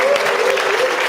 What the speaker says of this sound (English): round of applause for Gavin